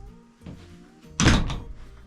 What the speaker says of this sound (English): And this door still closes.